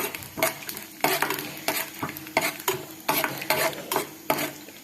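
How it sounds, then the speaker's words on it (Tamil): Seeds roasting in a pan for payasam, stirred with a utensil so each stroke scrapes and rattles against the metal in an irregular rhythm over a soft continuous sizzle, close up with no voices. "இப்போ சாதா விதையை வறுத்து எடுத்துக்கலாம்."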